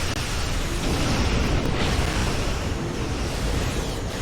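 Starship explosion during a space battle against a biocruiser in the Star Trek Online video game, a loud, dense roaring blast that fills the whole stretch with sustained broadband rumble and no speech.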